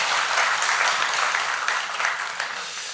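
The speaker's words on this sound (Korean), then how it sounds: "우리 박수 한 번만 하도록 하겠습니다." A church congregation claps together for about three seconds, dense steady applause filling the hall, heard fairly close with no talking over it.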